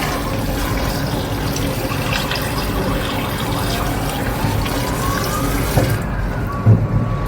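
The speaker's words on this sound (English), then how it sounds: "Then I add water." Water poured into a cooking pot holding meat boiled with ginger, onion and pepper for a Ghanaian dish, a steady close splashing gush running unbroken for several seconds with no talk.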